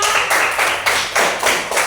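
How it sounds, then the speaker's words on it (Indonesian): Short burst of clapping from a classroom group applauding a student team, irregular overlapping claps in several waves, fairly close and without talk. "Beri tepuk tangan."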